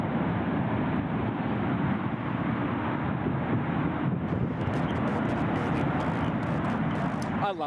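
A plane landing at Gold Coast Airport, a loud, steady, close jet roar with wind buffeting the microphone throughout.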